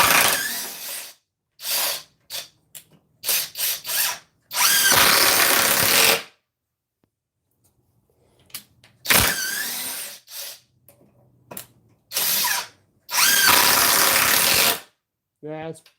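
A cordless power drill bought cheap on Black Friday runs in several bursts at full speed, loud whirring spurts separated by silences, with a voice talking between them.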